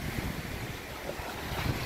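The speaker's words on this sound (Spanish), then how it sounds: "Y está re heavy con el viento que hay" Strong wind buffets the microphone at a flooded riverside beach in Uruguay, with surging water beside it. The rumble and gusts stay steady and close for the whole stretch, and nobody speaks.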